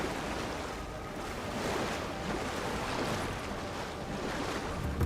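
Rushing water from a waterfall in the video game Avowed, a steady broadband roar that holds at an even level throughout, with no voices over it.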